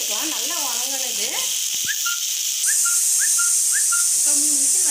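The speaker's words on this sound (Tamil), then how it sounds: "இப்போ 3 விசில் வந்துருச்சு, ஆஃப் பண்ணிட்டாங்க" A pressure cooker hisses steadily on a kitchen stove while a curry simmers, with a loud rushing whistle building near the end and a voice talking over it early on.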